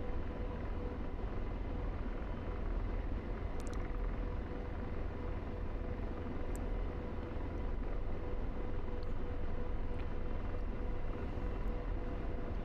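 An AH-64 Apache attack helicopter flies low over train tracks in the DCS flight simulator, its engine and rotor making a steady, dense rumbling drone throughout.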